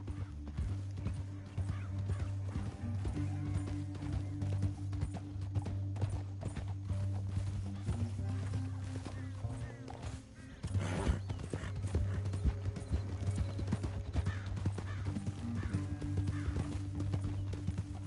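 Horses gallop in the video game Red Dead Redemption 2, a steady rapid clip-clop of hooves running under a sustained droning musical score for the whole stretch, with a brief break in the middle.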